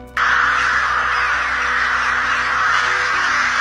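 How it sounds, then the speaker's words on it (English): A large flock of wild crows caws together, with dense overlapping calls forming a loud, continuous clamour that starts abruptly and carries on without pause. "Crows wild and out."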